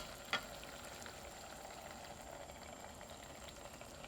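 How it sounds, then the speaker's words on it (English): Soup for oyako-don (egg and chicken bowl) boiling in a pan, a steady, quiet bubbling simmer with one brief sharper tap near the start and no talk. "Once the soup starts boiling, lower to medium heat"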